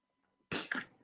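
A single sharp sneeze bursts out after near silence, loud and abrupt with a quick trailing burst.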